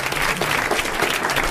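A 1981 French television studio audience claps in a dense, steady burst of applause that fills the whole short moment.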